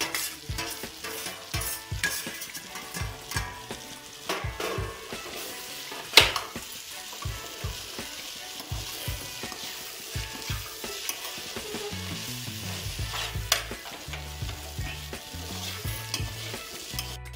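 Chopped pigeon pea beans stirred into frying masala in a kadai, a busy close sizzle with constant rhythmic spatula scrapes and knocks against the pan, no talking.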